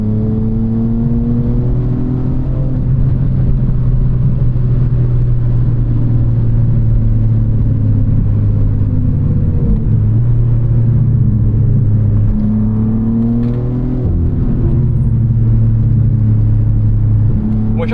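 A manual BMW M3 G80 engine drones loud and close from inside the car, its pitch climbing and falling across several gear pulls as it accelerates hard, with no talk over it.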